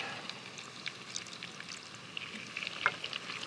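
Crayfish with smoked paprika and lemon juice frying in a pan, a faint, steady crackling sizzle with scattered pops and spits throughout, quiet and close with no talk.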